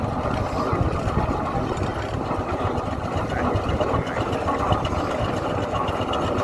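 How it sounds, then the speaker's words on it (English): A steam tractor engine chugs and idles close by at a vintage rally, a dense, rapid mechanical rumble that runs continuously without letting up. "this one's kind of a multi-purpose steam tractor."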